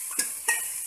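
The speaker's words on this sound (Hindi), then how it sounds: "इन प्याज को हम तब तक भूनेंगे जब तक ये" Onions fry in a pan for mutton rogan josh, a soft continuous sizzle broken by a few brief stirring scrapes.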